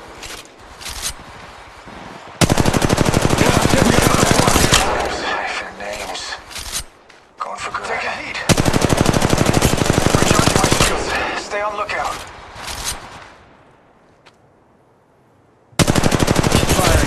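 Automatic weapon fire in Apex Legends Mobile, rapid loud bursts in several long strings separated by brief pauses, with a game voice calling out between bursts.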